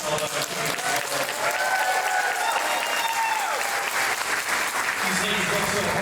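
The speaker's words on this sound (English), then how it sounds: "please give a large round of applause, like we showed you earlier, to Denise and Melissa from the East Alabama Chamber" A banquet-hall audience at a chamber of commerce annual dinner and awards gives loud, sustained applause with some whoops and cheers mixed in, filling the room throughout.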